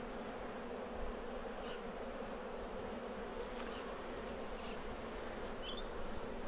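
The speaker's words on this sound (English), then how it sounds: "So this hive's got lots of bees" Honey bees buzz steadily from an opened Flow Hive with brood frames exposed, a continuous dense drone with a few individual bees passing close by.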